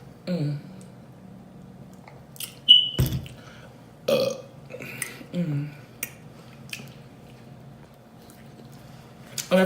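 Loud burps break out during a Philly cheesesteak mukbang, mixed with wet smacking and chewing sounds and some talking in the gaps.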